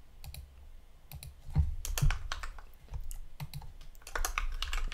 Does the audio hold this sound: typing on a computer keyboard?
yes